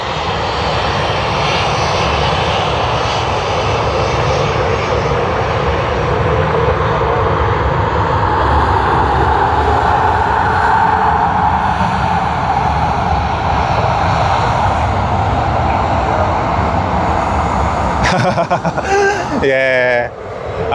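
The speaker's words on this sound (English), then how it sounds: "of the 100-year anniversary livery taking off from runway 34 right" A Qantas Boeing 787 in the 100-year anniversary livery takes off from runway 34 right at Sydney on a sunny day, its engines building to a loud, sustained roar that fills the clip before clipped interruptions near the end.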